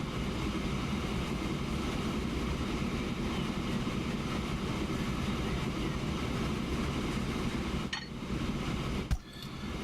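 A train runs in the Transport Fever video game, a steady, dense rumbling rail noise that holds throughout at an even loudness, with brief clanks near the end and no talk.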